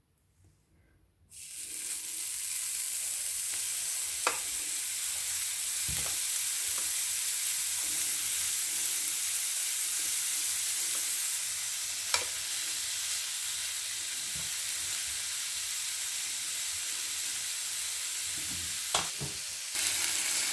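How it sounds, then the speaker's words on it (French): Kefta skewers cook in a panini press, making a loud, steady hiss and sizzle that starts abruptly after a second of quiet and carries on, with a few sharp clicks and taps. "on va faire la cuisson dans la presse à panini"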